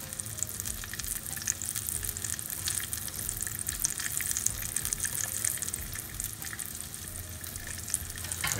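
Vegetable lentil patties frying in about half an inch of oil over a medium flame, a steady, close, crackling sizzle that continues evenly throughout with no talking.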